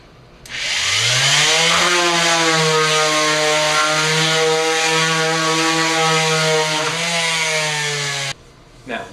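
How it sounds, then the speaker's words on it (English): An electric box sander works back and forth over a wooden surface, a loud steady motor whine that spins up at the start, holds nearly constant with slight pitch wavers, then cuts off abruptly near the end. "I'm going to turn it on and sand back and forth, and this surface will become much smoother."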